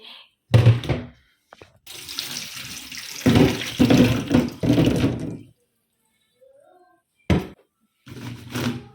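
Tap water runs in several bursts as chestnuts, checked for bad nuts with holes, are rinsed under a faucet at a sink, with pauses of silence between the splashes.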